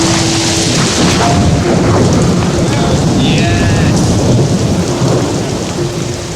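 Heavy rain pours down during a storm on an island while thunder rumbles loud and close, a dense continuous roar that eases slightly near the end.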